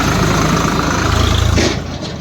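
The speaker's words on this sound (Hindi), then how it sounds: "गाड़ी देखिए मोटर गाड़ी" A motor vehicle engine idles steadily near paddy fields, a loud, continuous low rumble with vibration that drops slightly in level toward the end.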